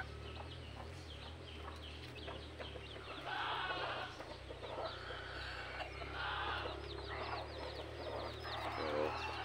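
Hens cluck repeatedly amid a busy farmyard of native and wild junglefowl chickens, with scattered bird calls and steady low background noise throughout.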